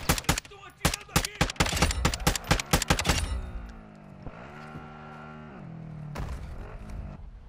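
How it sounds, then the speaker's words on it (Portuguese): Rapid bursts of automatic gunfire in the video game DMZ, loud sharp shots packed together for about three seconds, then giving way to a lower mechanical engine hum with a brief noisy swell near the end. "Estou atirando aqui."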